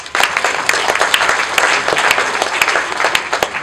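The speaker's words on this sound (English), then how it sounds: "So, can we applaud her?" Lively audience applause at an exhibition opening, many hands clapping close and loud with sharp individual claps standing out from the crowd, continuous for the whole stretch.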